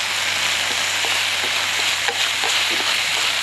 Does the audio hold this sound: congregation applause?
no